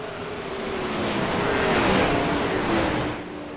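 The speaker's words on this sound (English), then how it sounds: "The cars are pretty loud here" Race cars at the Knoxville Nationals dirt track on a Hard Knox night, a loud, steady engine roar that swells and falls as the cars pass, with a rising whine running through it.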